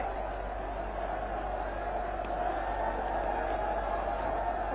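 A large crowd at the 1996 Cricket World Cup final between Sri Lanka and Australia, spectators still filing in through the turnstiles: a steady, distant murmur of many voices forming an even wash with no distinct cheers.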